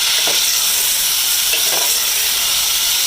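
Chicken mince (keema) fries in a pan with a constant loud sizzle and hiss, broken by a couple of faint scraping stirs of the spoon, with no talk.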